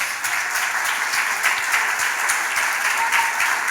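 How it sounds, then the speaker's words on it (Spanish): A church congregation at a Spanish-language worship service applauds steadily throughout, dense and fairly close, with a faint voice underneath. "Aplauda a Dios."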